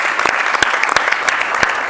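Steady applause from a studio audience on an Italian sports television show, dense clapping filling the whole moment with a few sharper claps standing out.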